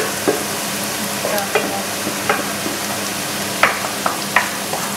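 Chopped onion sizzles in melted butter in a pan, a constant crackling hiss punctuated by several sharp scrapes and taps of a stirring spoon, close up.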